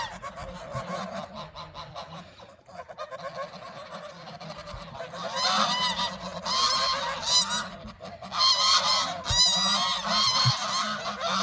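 Geese on a small farm honk loudly and repeatedly in noisy, overlapping bursts near the listener, building up after a quieter, muffled start.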